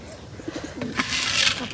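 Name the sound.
pigeons cooing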